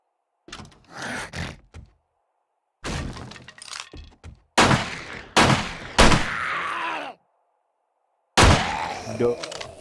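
Pistol fire in the zombie survival video game 7 Days to Die comes as loud, sharp gunshot bursts in clustered groups separated by short silences. The gunfire is close and punchy, with no voices heard.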